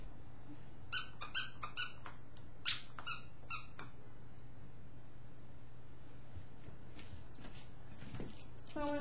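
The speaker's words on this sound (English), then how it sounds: "She loves squeaky toys." A dog's squeaky toy squeaks in sharp repeated bursts, several quick squeaks in a row, then a pause and a few more, over a faint steady hum in a quiet room.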